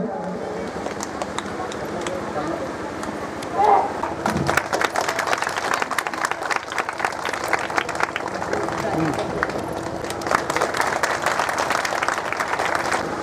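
A crowd at a Vijay Diwas 2021 ceremony gives a sustained round of applause, steady clapping that continues under the noise of the gathering.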